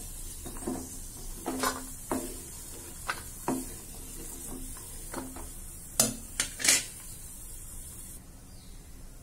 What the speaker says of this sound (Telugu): చూడండి, కిస్మిస్ మరియు క్యాష్యూ బాగా వేగుతుందండి